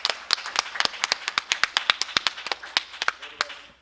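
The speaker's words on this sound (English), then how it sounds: "Give this man a round of applause." A small audience at a civic skills workshop claps in sparse, distinct hand claps, a fairly quiet and uneven patter rather than a full roar.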